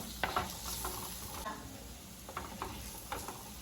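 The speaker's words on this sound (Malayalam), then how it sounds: "ഈ മസാലയിലേക്ക് പച്ചമണം പോകണവരെ നന്നായിട്ട് ഇളക്കി കൊടുക്കുക" Chili powder masala is stirred in a frying pan for a prawn roast, with soft scraping strokes and faint sizzling at low volume, no voices.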